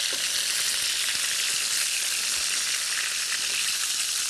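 Chicken pieces frying in a pan for chicken marsala, a loud, steady close sizzle with a few faint pops and no voices.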